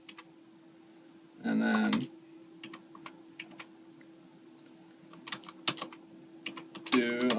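Clicky keystrokes on a computer keyboard as a matrix is entered into a Python matrix calculator, in scattered taps and quick runs over a steady electrical hum, with a short spoken phrase in between.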